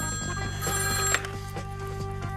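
A telephone rings from under a pile of things, a steady electronic ringing with harmonic tones repeating in short bursts, fairly loud and close, with no talk over it.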